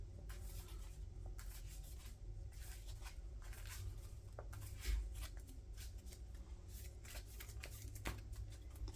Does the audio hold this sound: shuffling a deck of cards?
yes